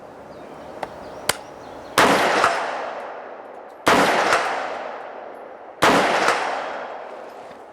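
Three loud 6.5 Grendel rifle shots fired at a target 100 yards downrange outdoors, each a sharp crack followed by a long fading echo, spaced about two seconds apart, with a couple of faint clicks before the first.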